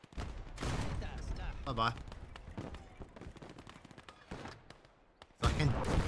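Scattered gunfire and explosions from the Gates of Hell Ostfront war game crack through a busy battlefield mix, several sharp shots and a heavier blast near the end, while someone talks over it.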